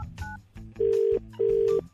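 Telephone keypad dialing for a radio prank call: a few short tones followed by two long, loud, steady beeps, close and clear with no voices.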